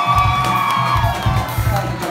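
A concert crowd at an unplugged punk show cheers and whoops loudly and continuously, with yelling over sustained noise and faint tonal feedback.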